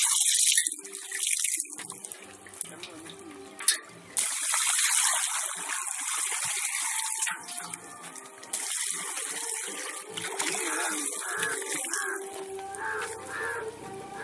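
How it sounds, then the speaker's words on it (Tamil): Water gushes and splashes steadily into an azolla culture pit and keeps running for several seconds. Crows caw faintly outdoors in the background. "அடுத்த கட்டமா நம்ம வந்து தண்ணி ஊற்றலாம்"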